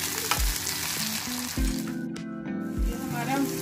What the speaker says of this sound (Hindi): इसमें हम टमाटर डाल रहे हैं, हल्का सा इसे हल्का ब्राउन करेंगे इसे।